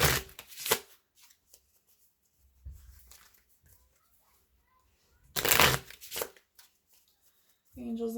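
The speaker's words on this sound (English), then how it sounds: "I'm going to grab a couple of the Twin Flame Journey Oracle cards to end your reading today." Twin Flame Journey Oracle cards being shuffled by hand, in two distinct brisk riffling bursts separated by quiet pauses, close and clear, with a brief voice at the end.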